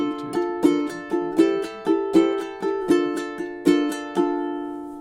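A ukulele plays a Spanish-inspired etude with triplet strums, bright strummed chords repeating in a steady rolling rhythm, close and clear with no talking.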